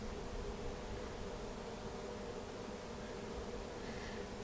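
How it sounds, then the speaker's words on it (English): Swarm of honey bees clumping on a tree branch more than 20 feet up, a faint, steady, dense buzzing drone from a distance with a noisy hiss and no pauses. "That's a lot of bees."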